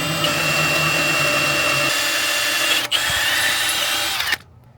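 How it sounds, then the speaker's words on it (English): A power drill whirs steadily at high speed, widening a hole in a trailer for a breakaway cable, with a brief catch partway through, then cuts off abruptly near the end. "I'm gonna drill the hole right here, or widen the hole that I've already drilled."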